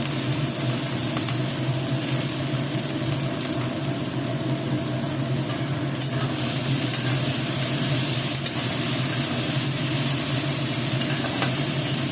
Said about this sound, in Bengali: তেল গরম হয়ে গেছে এর মধ্যে আমি প্রথমে পেঁয়াজ কুচি লঙ্কা কুচি এবং গাজর কুচিটা দেবো